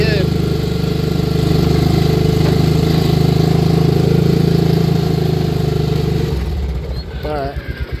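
A Polaris Ranger 500 6x6 utility vehicle with a power-loss and backfiring fault, its engine droning steadily and loudly at light throttle, then dropping to a lumpy, uneven idle near the end.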